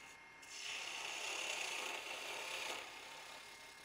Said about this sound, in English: So now I'm going to switch to a spindle gouge. I'm using a half inch